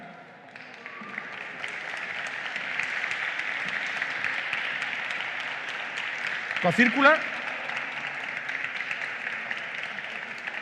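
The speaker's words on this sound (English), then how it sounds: "Thanks for the applause." An audience claps for an award winner at a live conference stage event. Steady, moderate applause runs under a presenter's amplified voice and swells briefly near the end.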